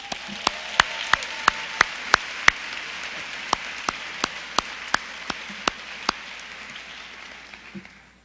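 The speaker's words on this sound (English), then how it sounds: "Let's give our student musicians one more round of applause." Sparse, scattered claps from a small audience for student musicians at a high school senior awards night, a dozen or so distinct sharp claps over a soft background hiss, thinning out and fading toward the end.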